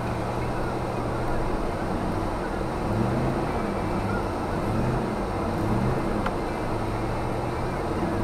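A 1990 Ford F150 pickup spins its wheels in snow in a parking lot, the engine revving in repeated rising surges over a constant droning roar.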